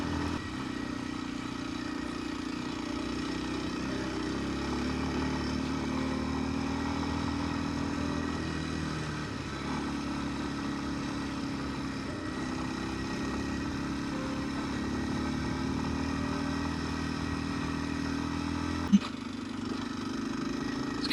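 A Kawasaki KLX230S dirt bike ridden on a trail through deadfall and snow, its engine droning steadily and loudly throughout, with a brief knock or clatter near the end.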